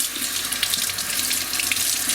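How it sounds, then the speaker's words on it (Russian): Water streams steadily from a kitchen tap, a constant close splashing rush with no voices. "Очень сложно настроить температуру именно воды из-под крана."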